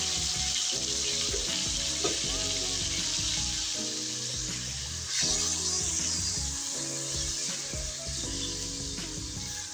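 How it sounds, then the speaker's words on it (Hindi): Chopped masala with garlic and ginger and tomato juices frying in a pan for goat brain curry, a dense steady crackling sizzle with faint stirring clatter, close and continuous without speech. "अब इसको अच्छे से भूनेंगे।"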